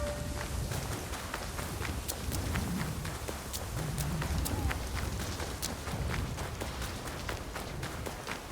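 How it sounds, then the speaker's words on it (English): A horse gallops with steady clip-clop hoofbeats in the Assassin's Creed Shadows video game, running continuously under a dense bed of rain-like ambient game noise and scattered sharp clicks. "just run or ride the horse down"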